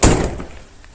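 A car door on a 1980 Lincoln Mark VI, said to need service, shuts with a single loud, close thunk that fades quickly.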